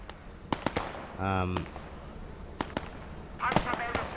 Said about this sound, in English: Doing plenty of damage with the stern mortars